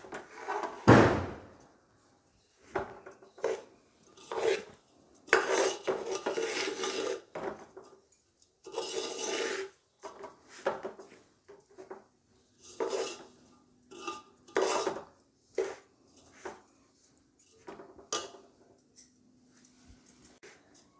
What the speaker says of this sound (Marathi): त्याला आपण ना 20 मिनटं असंच बारीक गॅसवर छानपैकी भाजून घ्यायचं आहे।